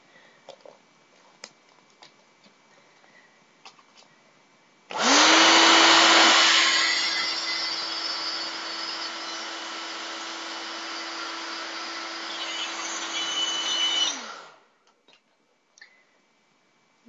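A hair dryer drying hair set in curl formers switches on abruptly with a loud whooshing blast and steady motor hum, runs continuously for about nine seconds, then cuts off, leaving faint handling clicks.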